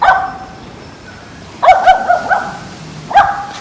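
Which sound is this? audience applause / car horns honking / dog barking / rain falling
dog barking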